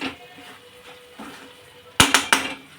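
A metal spatula scrapes softly around a wok of fresh coconut filling, then clanks sharply against it three times in quick succession.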